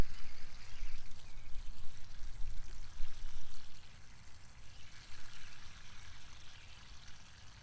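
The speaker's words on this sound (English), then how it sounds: "Grab my hose and I'll water this in" A garden hose watering a tomato plant around its stem outdoors, a steady rushing pour of water onto soil that continues throughout and softens slightly toward the end, with no talk.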